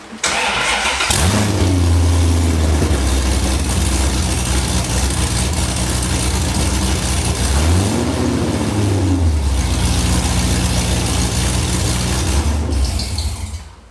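A Corvette fitted with 1 7/8-inch long tube headers cranks and starts, then idles with a deep rumble, revs up and settles back to idle before shutting off, loud and close.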